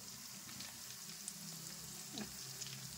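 Lacha nimki deep-frying in oil over a low gas flame while being turned, a soft steady bubbling sizzle with a few faint clinks and scrapes.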